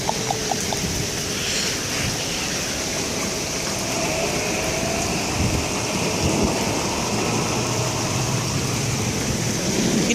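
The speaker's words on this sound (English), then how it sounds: "It is raining, guys." Steady rain pours down in a dense, constant hiss with low rumbles beneath, loud and unbroken throughout, with no talking.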